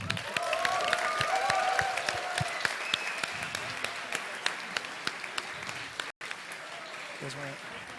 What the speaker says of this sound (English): Let's give it up for both teams